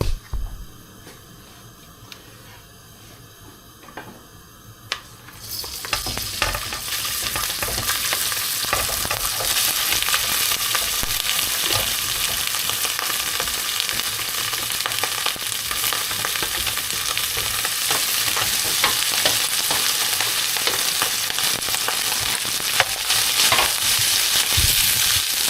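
Rice for special fried rice hits a hot pan and bursts into a loud, steady sizzle after a few quiet seconds, with stirring scrapes and crackles continuing close up.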